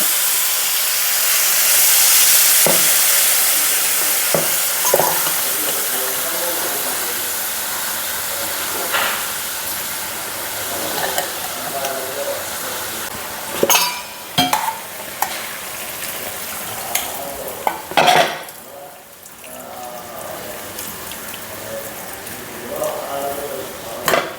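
Thin coconut milk is poured into a bitter gourd fish curry and stirred, giving a soft simmering hiss with scattered clinks and scrapes of a spoon on the pot, while someone talks throughout.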